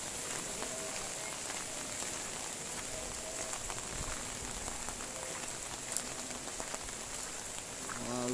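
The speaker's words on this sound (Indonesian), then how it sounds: "Wah, hujan nggak berhenti-henti ini." Heavy rain pours steadily in a town in Kebumen, a dense, continuous hiss of drops drumming on surfaces that holds an even level throughout, with no voices.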